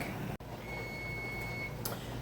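A kitchen timer goes off during pear preserve canning, giving one sustained, fairly clear electronic beep tone over a steady background hum, with no talking.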